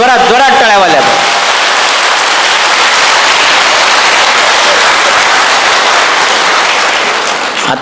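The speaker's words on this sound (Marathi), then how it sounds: "सगळ्यांनी हात वर, जोरात टाळ्या वाजवायच्या, जोरात जोरात जोरात जोरात जोरात जोरात टाळ्या वाजवायच्या" A large audience claps loudly and continuously for donors, a dense, sustained wall of applause that follows a short moment of a voice at the start.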